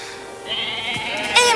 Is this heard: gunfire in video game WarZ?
no